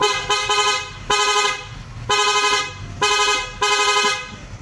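Repeated loud blasts of an aftermarket PIA horn fitted to a Senlo M5 Plus motorcycle, four or five long honks with short gaps, bright and close.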